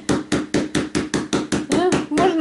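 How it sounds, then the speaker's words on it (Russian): A meat mallet pounds chicken chops in about ten even, loud, close thuds roughly a quarter second apart, with a voice rising over the last few blows. "Вот так вот я сижу и отбиваю."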